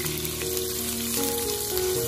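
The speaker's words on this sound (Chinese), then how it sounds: "先把五花肉炒散" Pork belly stir-fried in hot oil in a wok, a dense continuous sizzle with crackling spatters, close and steady throughout.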